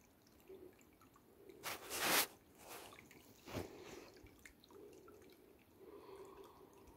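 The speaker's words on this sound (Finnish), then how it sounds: "Tuleehan sieltä vettä vähän." Water trickling and dripping from a concrete culvert pipe under a ditch in snowy weather, a few soft splashy drips and bursts standing out over a quiet background trickle.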